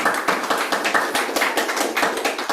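Audience clapping for the fathers at a Srimad Bhagavat Saptaham gathering, a dense, steady wash of many hands applauding together, loud and sustained with no voices over it.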